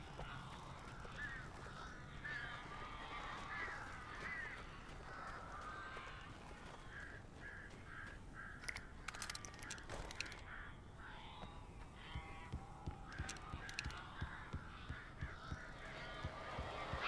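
Crows caw repeatedly in the game Alan Wake, scattered harsh calls rising now and then over a faint, continuous background ambience, with no one talking.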